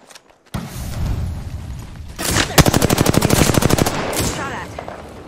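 Enemy gunfire from the battle royale game Apex Legends: a scattered shot first, then a rapid automatic burst of evenly spaced shots that rattles loudly for about two seconds before fading, all over steady game ambience.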